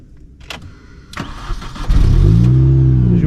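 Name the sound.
Mini Cooper S R53 engine starting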